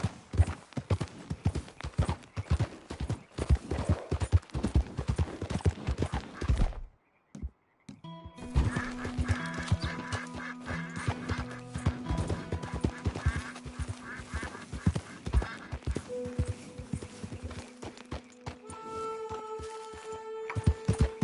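Rapid clip-clop of horse hooves in Red Dead, dense and rhythmic, followed after a brief gap by more hoofbeats under sustained tonal game sounds.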